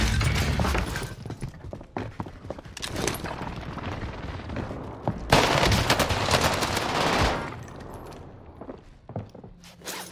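A Whitley LMG fires in Vanguard Warzone on Rebirth Island: long, close bursts of rapid automatic fire with impacts and shattering noises, broken by short pauses before a loud sustained stretch.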